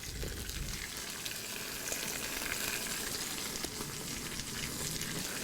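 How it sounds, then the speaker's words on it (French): A stuffed turkey breast roast sears in hot oil with crushed garlic, giving a continuous dense sizzle and crackle, close and steady, with no voices over it. "Nous allons maintenant saisir notre rôti dans de l'huile chaude."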